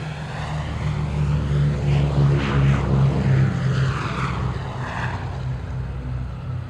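B-17 Flying Fortress propeller bomber at an airshow at Elmira Corning Regional Airport, its radial engines droning steadily and loudly with a throbbing low hum that swells slightly mid-pass, alone without talk.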